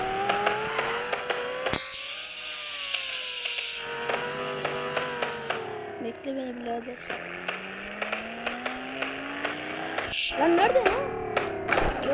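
A car in the Los Angeles Crimes video game drives with a steady engine drone as its worn-out tires squeal, the pitch sliding and wavering, with sharp clicks and someone speaking over the game audio.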